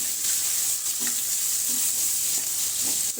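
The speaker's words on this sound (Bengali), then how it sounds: "তো এই যে আমি শুটকি ভাজতেছি।" Cut pieces of dried fish (shutki) fry in hot oil with a dense, continuous sizzle, punctuated by occasional stirring scrapes and bubbling bursts, close and fairly loud.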